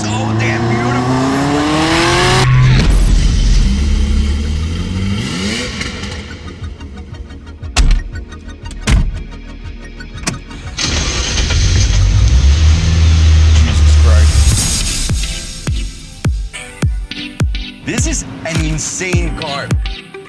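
A Ferrari F40's 2.9-liter twin-turbo V8 roars and revs hard with tire squeal, then drops to sharp blips of the throttle, loud and close, with a voice mixed in.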